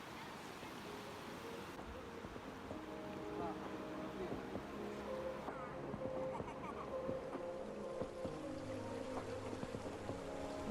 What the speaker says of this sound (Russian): Тут река достаточно бурная,